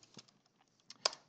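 Typing on a computer keyboard, a few sparse, close clicky keystrokes with short pauses, ending in a sharper double tap, in an otherwise quiet room.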